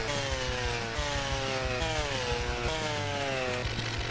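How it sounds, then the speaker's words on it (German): A chainsaw cutting into a tree in a PS4 forestry simulation game, the engine buzzing loud and continuous with its pitch dipping and recovering as it bites into the wood, with no talk. "Das ist das einzige Schöne hier, dass man eine Kettensäge benutzen kann."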